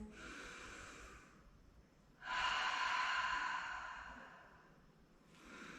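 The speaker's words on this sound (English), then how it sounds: "Cleansing breath." A yoga instructor takes a cleansing breath: a soft breathy exhale, a pause, then a longer, fuller airy exhale close to the mic in a quiet room, with a faint breath starting again at the end.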